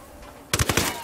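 A short submachine gun burst in the tactical shooter Ghost Recon Wildlands, several sharp rapid shots in quick succession after a quiet moment, loud and close, with no voices.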